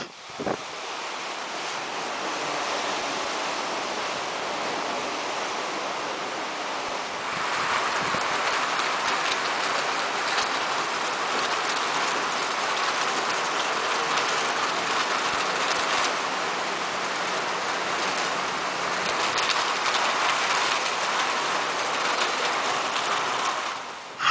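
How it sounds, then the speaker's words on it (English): Heavy typhoon rain pours steadily over a flooding street in Tacloban, making a dense, loud roar of hiss and splatter with gusting wind that swells after the first few seconds and holds without a break. "you can see the rain coming down"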